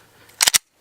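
A Glock Gen 5 pistol fires its first rounds at a range as two sharp, closely spaced gunshots in quick succession, loud and crisp, followed by silence.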